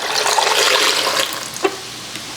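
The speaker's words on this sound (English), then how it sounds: "we will add water." Water pours steadily from a tap into a pot or cup while vegan taco filling is being cooked, a loud continuous splashing rush that fades, followed by a couple of small knocks.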